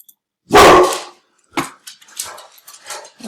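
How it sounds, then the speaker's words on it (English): Indoor dogs bark, starting with one loud close bark and followed by several shorter, quieter barks and yips in an uneven series, with silence between them. "The dogs heard someone."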